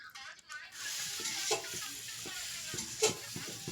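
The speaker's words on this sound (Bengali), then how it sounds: "এখানে আমার মাছের ঝোল ফুটছে" A fish curry bubbles away in a pot, a faint, continuous simmer broken by a few soft pops and clinks, with no voices.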